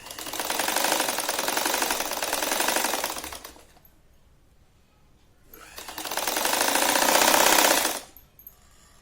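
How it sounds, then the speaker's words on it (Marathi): A sewing machine stitches the edges of a shahi mastani saree in two close, loud runs of rapid mechanical clatter, each a few seconds long, separated by a brief quiet pause. "या तिघी बाजू आपण आधी शिवून घेऊ अशा पावपाव इंच वाढू"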